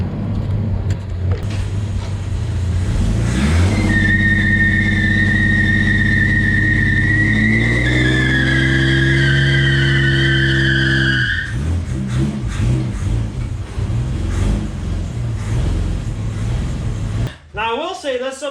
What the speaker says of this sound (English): You know how long it's been since these tires have spun at all?